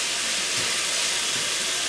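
Beef chuck roast sears in a hot pan for a Kenyan Swahili curry, giving a loud, even sizzle and hiss that runs unbroken and close.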